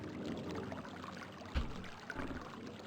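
Running water in the realMyst game world, a steady broadband wash with small splashes and gurgles, continuous and fairly close throughout.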